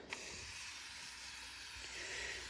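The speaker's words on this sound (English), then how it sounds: "this can literally get sprayed everywhere like this" A pest control spray hisses out in a steady continuous stream close by, a soft airy rush lasting a couple of seconds with no talking.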